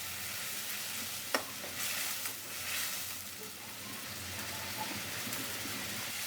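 Spice paste of ground coriander, ginger, turmeric and chilli powder with tomato and green chilli frying in a pan while being stirred: steady dense sizzling throughout, with a sharp clink of the spoon near the start.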